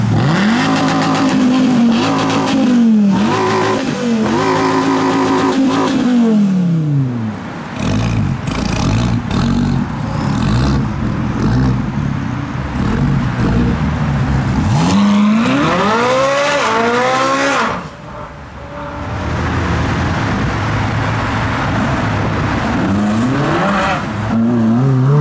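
Cars, including classic cars and supercars, pull away on a Dubai street with loud, close engines revving and roaring. Repeated accelerations rise and fall in pitch, with brief tyre squeals, and there is no talk.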